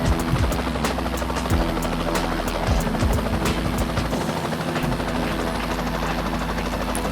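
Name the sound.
helicopter in X-Plane 12 flight simulator video game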